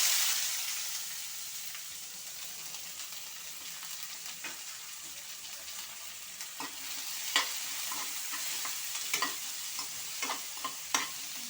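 Onions and green chillies fry in a little oil in a pan, giving a steady sizzling hiss with occasional stirring clicks and scrapes throughout, close and moderately loud.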